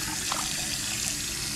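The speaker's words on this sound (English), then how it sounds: "Just gonna add water." Tap water pours steadily into a cooking pot, a hissing, splashing rush that stays constant and close throughout, with no talking.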